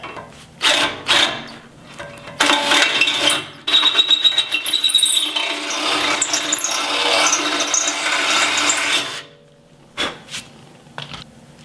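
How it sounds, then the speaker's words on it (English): A power drill whirs loudly for several seconds in a sustained grinding run, its bit enlarging bolt holes on a front winch bumper, preceded and followed by short bursts and clunks of tool handling. "I'm going to use that same drill bit that we used earlier to clearance that out a little bit"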